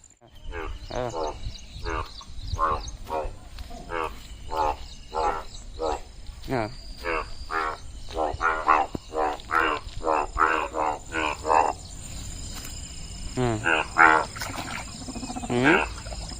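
A chorus of frogs croaking in a village during the rainy season, in rapid, repeated bursts, loud and close, over a constant hum of insects.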